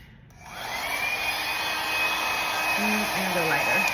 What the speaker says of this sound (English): So I'm really going to blow it very slow.